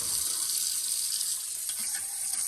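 A kitchen sink tap runs in a steady, loud, hissing stream as the sink is rinsed out before washing greens, continuous and unbroken with no talking.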